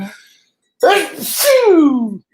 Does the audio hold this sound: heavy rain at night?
no